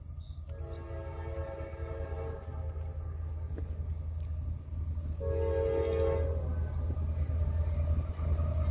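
An eastbound freight train passes on the railroad beside State Route 62 outside New London, Ohio. A continuous heavy rolling rumble runs throughout, and two loud horn blasts sound, one near the start and another midway.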